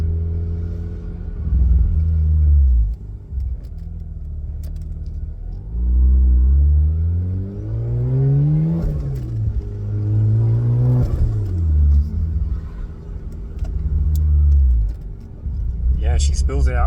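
A turbocharged Mazda RX-8 Renesis rotary engine with a BrettSpeed manifold revving up several times toward around 4,500 RPM, each rise and fall of pitch loud and close, with someone talking over it.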